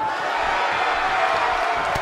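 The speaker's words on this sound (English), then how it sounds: "I heard a crowd as loud as this one in Raleigh." A packed wrestling arena crowd in a WWE 2K video game roars and cheers as one continuous loud, dense wall of noise, with no talk over it.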